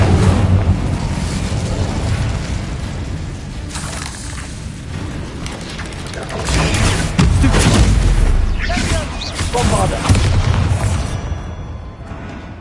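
Heavy fiery blasts from the Incendio spell in Hogwarts Legacy boom and rumble loudly in a dense, chaotic combat mix, with a voice calling out over the bursts.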